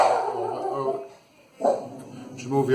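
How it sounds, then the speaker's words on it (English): A dog yips and whines in short bursts, with a person talking over the sounds. "You have to excuse the dog barking."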